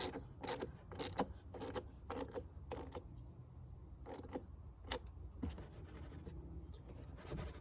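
Ratchet tightening the battery terminal bolt on a 2013 Ford F-150, a series of quiet close clicking bursts in uneven runs, fading to sparser clicks near the end.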